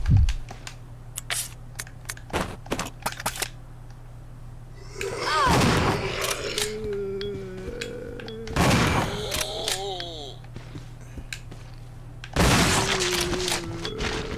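Sharp single gunshots in Resident Evil 0, spaced irregularly with a few heavier blasts, over a low steady hum and some clicking, while someone talks between shots.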